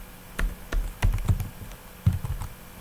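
Keys clatter on a computer keyboard as a title is typed into a freelance gig listing, a handful of close, uneven taps in short bursts with brief pauses between them.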